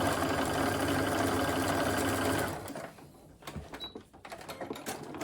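A sewing machine runs a steady stitching line along a crossbody bag edge to hold straps in place, a loud continuous whirring buzz for a couple of seconds, then it stops, leaving faint clicks and handling.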